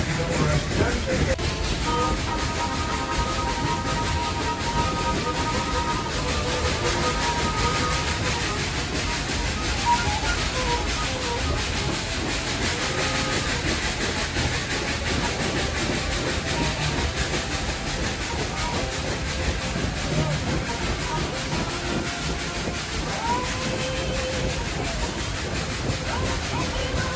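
The Dollywood Railroad steam train, the Dolly Express, runs steadily through the theme park with a constant loud rumble, hiss and rail clatter, and voices are faintly audible beneath it.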